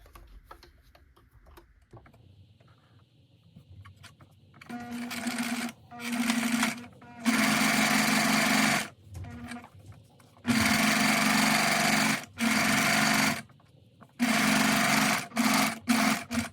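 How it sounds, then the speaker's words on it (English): A sewing machine stitches a fabric bag strap in several loud runs of rapid motor-driven stitching, each a few seconds long, with brief pauses and a quieter handling sound before the first run. "I'm gonna go ahead and start sewing"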